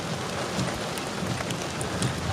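Heavy rain pours steadily during a storm chase of a supercell near Fort Recovery, Ohio, a dense close hiss with no voices.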